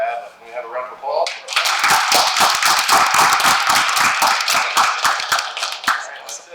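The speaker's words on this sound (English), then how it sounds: "Can we have a round of applause?" Audience applause for a first-generation student panel at a university event, a dense round of clapping that swells in after a brief voice and carries steadily to the end.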